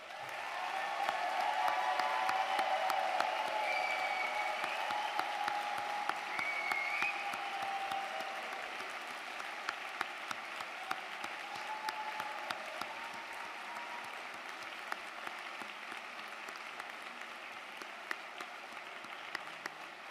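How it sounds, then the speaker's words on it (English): Sustained applause from a large crowd honoring graduates at a 2023 Berklee Valencia commencement ceremony, steady and fairly distant-sounding, holding for about twenty seconds before easing slightly toward the end. "Can I get one more round of applause for all of our graduates?"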